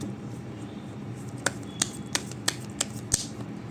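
Tarot cards are shuffled up close, a run of crisp riffling snaps and flicks in a quick irregular rhythm over a steady low room noise.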